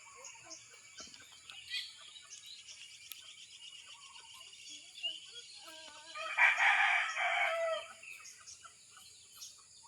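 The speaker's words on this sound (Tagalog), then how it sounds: "Chicken." A rooster crows loudly close by, one strong cock-a-doodle-doo near the middle, amid scattered clucking and birdsong with crickets chirping faintly in the background.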